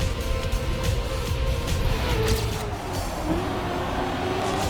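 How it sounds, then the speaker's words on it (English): A Formula car engine in Trackmania Nations Forever, a continuous drone with a steady whine rising in pitch, loud and unbroken, sounding flat and buzzy. "the Formula car here sounds worse than Formula E in real life"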